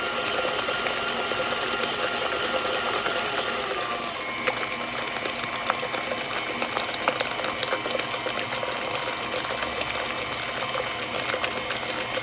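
An electric mixer whips cream into butter, with buttermilk separating out, giving a steady close whirring churn and wet sloshing that runs for the whole stretch and roughens slightly partway through.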